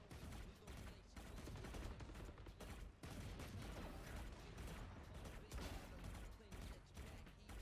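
Rapid Phantom rifle fire while strafing in Valorant, dense bursts of shots running nearly continuously with brief gaps, loud and close, mixed with game effects.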